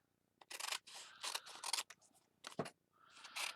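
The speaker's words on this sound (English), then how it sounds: "Get your little fussy scissors." Small fussy scissors snip fabric backed with freezer paper in quick, crisp cuts, several separate snips and short runs close up in a quiet room.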